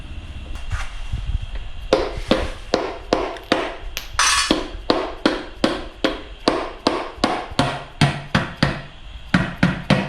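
A hammer taps a Ford Escort 1300 oil sump being fitted to a 1600 Crossflow engine in a steady run of sharp, ringing strikes, close by, with a brief pause before the last few blows.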